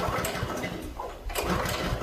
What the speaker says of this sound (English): It's a water pump that's fueled by a Honda engine.